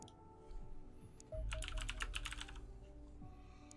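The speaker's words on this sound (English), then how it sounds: "so you can hear me type on my new keyboard" Rapid keystrokes clatter on a new Corsair computer keyboard, a quiet intermittent patter that swells into a dense burst of typing midway, then thins out, close and fairly soft against room hum.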